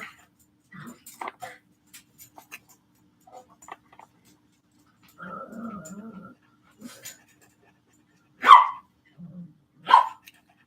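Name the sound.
dogs playing and barking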